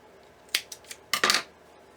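Scissors snip off excess twine on a nautical lighthouse wreath, with a few quiet, close clicks and then one slightly longer cutting burst in a quiet room.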